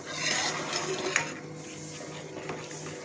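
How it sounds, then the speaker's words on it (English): Flour, tomatoes and spices for Sindhi-style masala roti being mixed together in a bowl, with soft scraping, stirring and light clinks of utensils, close and fairly quiet. "So now we blend the entire flour, the tomatoes and the spices all together"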